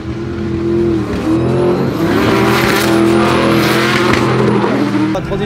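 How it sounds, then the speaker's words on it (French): A rallycross race car at Croix-en-Ternois accelerates hard on track, its engine a loud, close, sustained snarl with rising and falling revs throughout. "Jordan qui prend la piste pour pouvoir prendre de la vitesse ici"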